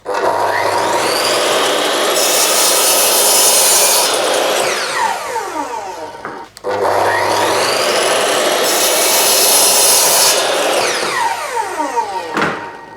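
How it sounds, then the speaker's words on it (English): A miter saw cuts wood into 10-inch sections, two loud whining cuts in succession, each spinning up, biting through the board and winding down, with no voices. "I'm gonna go over to my miter saw now, cut two 10-inch sections off this"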